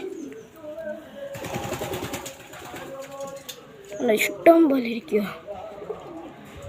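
Pigeons coo close by in soft, repeated throaty calls, blending with a person talking over them.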